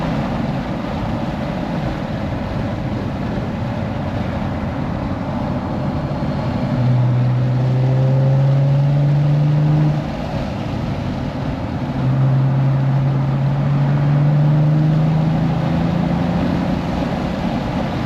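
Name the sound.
Cadillac CT4-V Blackwing engine at full throttle on race track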